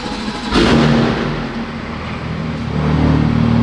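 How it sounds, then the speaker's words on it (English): A 900HP BMW M4 engine cranks and fires up with a sharp burst, then settles into a loud, rumbling steady run close by. "Let's go ahead and start her up."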